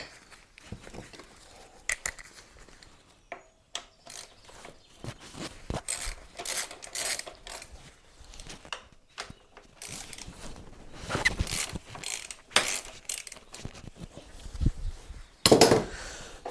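An 8 mm Allen key works bolts out of a dirt bike, giving scattered metallic clicks, scrapes and taps in irregular bursts close by, with quiet pauses between.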